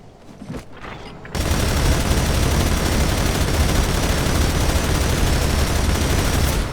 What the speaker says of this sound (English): Just to do a bit of shooting, just for fun.